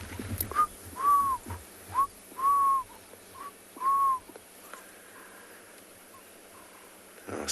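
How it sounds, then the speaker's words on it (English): Cape turtle doves or ring-necked doves calling at a quiet waterhole at sunset on safari, a series of soft repeated coos about one a second, moderately near, fading out after several notes over a low hum of background. "Hear the Cape turtle doves or the ring-necked doves."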